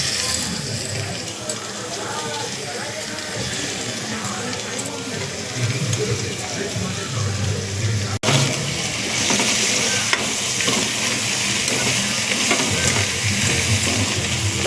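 Broad beans fry in a pan with a continuous close sizzle, stirred and scraped throughout, and speech faintly at times.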